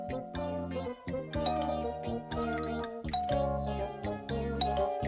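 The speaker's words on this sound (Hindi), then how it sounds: "कब से घंटी बजा रहा हूँ" A doorbell in a Hindi cartoon episode gives repeated ding-dong chimes in a steady rhythm, loud and close, layered over a musical background.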